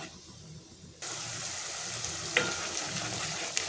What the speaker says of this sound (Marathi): दही टाकून पुन्हा मी याला दोन मिनटं शिजून घेणार आहे मसाला